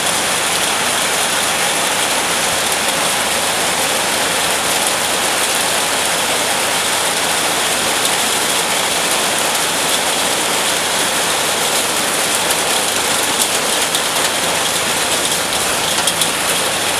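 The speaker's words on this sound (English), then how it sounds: "here comes the rain again" Heavy rain falls steadily, a loud dense continuous hiss that stays unbroken for the whole stretch, close by and with no voices.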